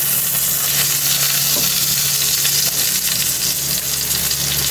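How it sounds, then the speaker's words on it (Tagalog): Garlic sizzling and frying in rendered pork fat in a pan for green bean adobo, a steady dense crackling hiss that runs loud and unbroken throughout, with no talking. "Lagay na natin yung bawang natin."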